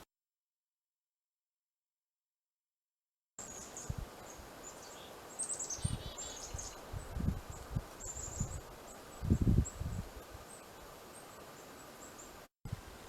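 Small birds chirp outdoors in short high twittering bursts, fairly faint over soft rustling and low outdoor background, after a few seconds of silence.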